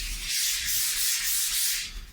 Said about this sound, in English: do the rest of the sanding by hand